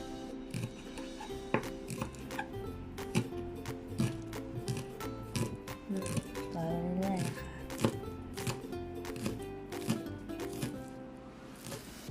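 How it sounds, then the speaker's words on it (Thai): Spring onions sliced finely with a kitchen knife as a garnish for oyakodon, a quick run of crisp, close chopping taps on a board, fairly quiet, with brief soft talk. "ต่อไปเราก็จะหั่นต้นหอมนะคะ"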